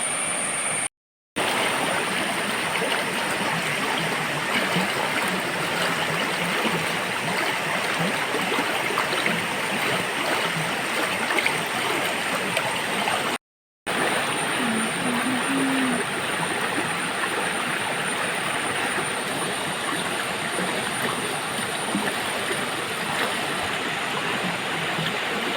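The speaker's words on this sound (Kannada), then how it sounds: "ಮರಗಳೆಲ್ಲ ಬಂದು ನಿಂತಿದೆ, ಹಾಗಾಗಿ ನೀರು ಆಚೆ ಸೈಡಿಂದ ಹೋಗ್ತಾ ಉಂಟು" River water rushing steadily past fallen trees piled in its course, a dense continuous roar close by that never lets up, with no voices.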